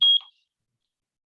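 A kitchen timer gives one short, high electronic beep that cuts off quickly and is followed by silence.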